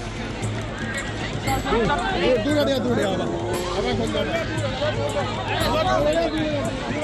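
A dense crowd of Mahakumbh pilgrims packs the platform at Jhansi railway station, a steady, close hubbub of many overlapping voices with shuffling and movement that holds at the same level throughout.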